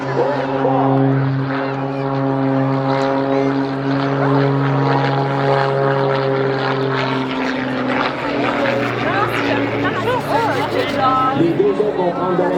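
A propeller airplane climbing during aerobatics at the Bauce air show, a loud steady engine drone with shifting pitch, while a commentator talks over the public address.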